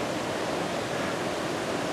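High water rushing along after a night of heavy rain, a steady broadband roar with no breaks, fairly close and moderately loud, no voices.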